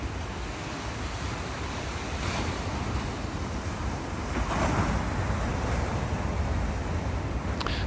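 Ocean surf rolling onto the beach at Kirk Creek in Big Sur, a steady, loud wash of breaking waves with wind rumbling across the microphone throughout, swelling slightly near the end.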